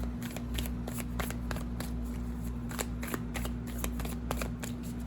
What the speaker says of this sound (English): I'm gonna shuffle and then pull from the top